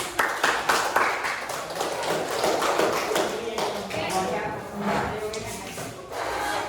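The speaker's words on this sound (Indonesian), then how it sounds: "Oke, tepuk tangan" Students in an Indonesian classroom applaud after group presentations, a dense, steady patter of many hands clapping at close range with faint voices underneath.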